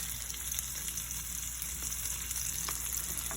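Garlic, rosemary and butter frying in a pan alongside a wagyu rib eye steak, giving a soft, continuous crackling sizzle with a few faint pops, close by and without any voices.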